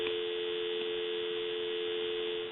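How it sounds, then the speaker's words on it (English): Dial tone from an original model Mickey Mouse telephone on a regular phone line, a steady unbroken hum held loud and alone throughout. "I'm going to give you some dial tone."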